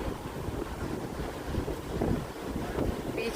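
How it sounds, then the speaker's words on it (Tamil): Strong wind at a beach, heard as a steady, loud roaring rush with gusty buffeting against the microphone and a faint wash of surf underneath, with no voices. "செம்ம காற்று இன்னைக்கு"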